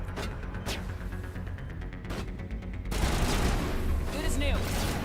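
Gunfire and a rocket in the Mass Effect video game: a loud string of rapid shots and blasts, then a denser, heavier burst of combat noise with speech faintly mixed in.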